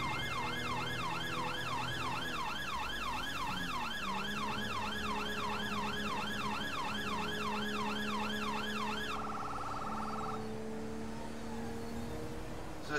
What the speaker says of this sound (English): Back on the siren tones to alert traffic here